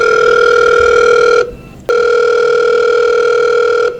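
A telephone ringback tone on an outgoing call sounds loud and close, a steady electronic tone that runs for about a second and a half, pauses briefly, then rings again for two seconds.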